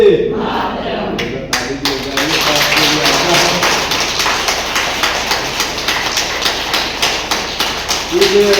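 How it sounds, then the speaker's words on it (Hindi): An audience at a yoga camp claps in rhythm, a loud, steady run of sharp hand claps repeating for several seconds, with a voice speaking over the start and end. "ताली का एक महत्व है"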